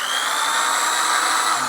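Electric drill powered from a DIY solar inverter setup, whining steadily and loudly at close range for the whole short stretch, with no talk over it.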